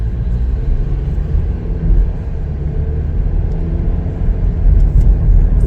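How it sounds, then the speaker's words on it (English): A 2024 Chevrolet Blazer 2LT on a test drive gives off a steady low engine and road rumble from inside the cabin, loud and continuous, swelling slightly near the end. "take it for a little test drive here."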